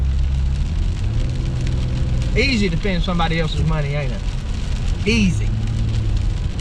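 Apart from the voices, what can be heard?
heavy rain on a truck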